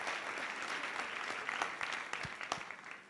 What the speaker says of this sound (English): We could please give them also a big hand of applause.